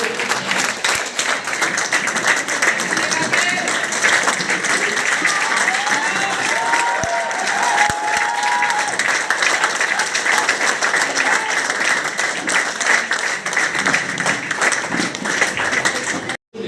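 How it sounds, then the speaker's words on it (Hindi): Sustained applause from a seminar audience fills the room with even, unbroken clapping that holds at a constant loud level, with faint voices underneath, then cuts off abruptly. "आपकी तालियां बजती रहनी चाहिए"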